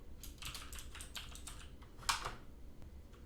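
Someone types quickly on a computer keyboard into a plain text file, with a burst of close, light key clicks and one sharper keystroke near the end.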